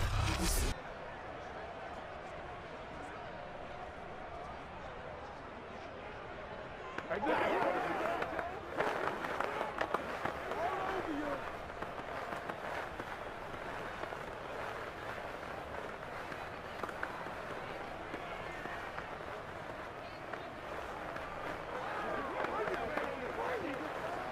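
Stadium crowd at a simulated Falcons vs Panthers NFL game in Madden 23, a broad wash of cheering and noise that swells suddenly after a quiet start and holds steady, with a brief sharp burst at the very beginning.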